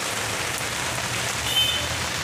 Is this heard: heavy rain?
yes